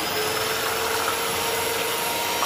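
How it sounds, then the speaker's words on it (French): Food processor blending a smooth crepe and broccoli filling, a continuous whirring motor hum with a steady high whine running throughout, close and moderately loud, with no talk over it. "Et je continue à mixer."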